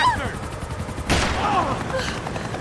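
Gunfire in the video game Max Payne 3: a loud, sharp burst of shots sounds at the start, then scattered rapid bursts of fire continue at moderate loudness, with faint game voices mixed in.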